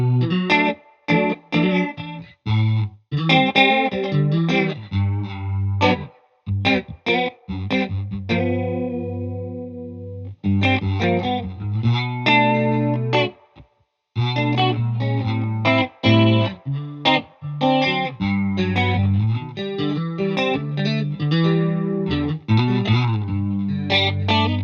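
An electric guitar plays through a Thorpy FX Deep Oggin chorus pedal with the rate set very high, giving a fast, warbling shimmer over strummed chords and single notes, loud and continuous with brief pauses.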